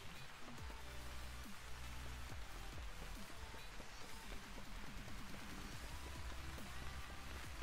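Steady, dense rain falling in the video game Vintage Story, a loud continuous patter of drops on surfaces with no break across the clip.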